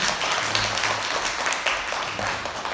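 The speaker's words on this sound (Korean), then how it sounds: "박수로 축하해 주시면" A church congregation applauds in celebration, a brief dense wash of clapping with faint low murmurs underneath, fairly loud and close throughout the short moment.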